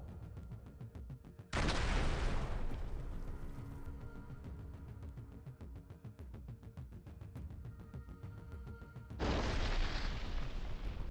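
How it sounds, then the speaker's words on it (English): Two heavy blasts from Lancet munitions hitting a T-64BV tank near Kupiansk, each a loud broadband boom followed by a long rumbling roar and crackle, with no voices. "Destruction of a Ukrainian armed forces T-64BV tank near Kupiansk by 2 Lancet mortar shells."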